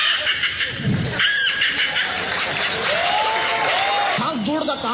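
A man imitates a horse whinnying with his voice on a mimicry stage act, a loud rising and wavering neigh under crowd noise that sounds much like applause.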